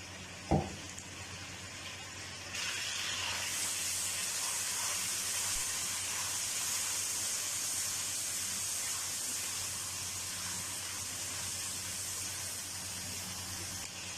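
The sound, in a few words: ginger garlic paste sizzling in hot oil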